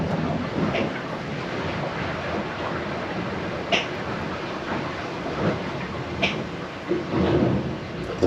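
Water and waves rush and slosh along a sailboat hull mid-Atlantic, a continuous loud roar with occasional thumps and surges, close and enveloping.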